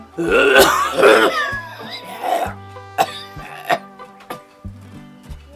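An elderly man coughs from smoking bidis, several harsh throaty hacks in quick succession followed by rasping throat clearing, close and loud, with a brief voice mixed in early on.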